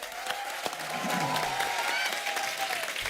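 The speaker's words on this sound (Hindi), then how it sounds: "एक बार जोरदार तालियां अनुपम जी के लिए और ईशा के लिए" A studio audience on The Kapil Sharma Show gives guests a sustained round of applause, a dense steady clapping heard throughout with some crowd noise mixed in.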